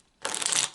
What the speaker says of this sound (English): So I'm shuffling that into the cards.